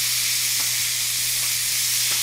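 Diced onions and par-cooked Idaho potatoes fry in a restaurant pan, giving a steady, dense sizzle that holds throughout with a few faint stirring scrapes and no voices.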